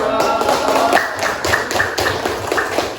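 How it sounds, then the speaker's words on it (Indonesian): Schoolchildren in a classroom clap together on their teacher's request, a dense, steady burst of many hands that carries on for a few seconds and fills the room. "Kasih aplaus."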